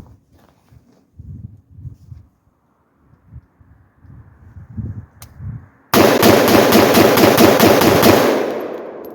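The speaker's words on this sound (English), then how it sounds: "I'm going to be firing this fast because I've noticed that if there's going to be a flash, it's going to be even brighter if I shoot faster" A short-barreled 7.5-inch 7.62x39 rifle fires a fast, loud string of about a dozen rapid shots outdoors after several seconds of muffled low thumps and handling noise, then the shots fade into a ringing decay.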